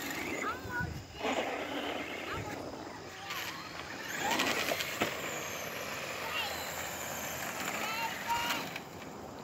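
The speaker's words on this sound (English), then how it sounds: "Got a big truck coming." A heavy truck rumbles closer through outdoor noise, with a brief hiss of air brakes, while people talk nearby.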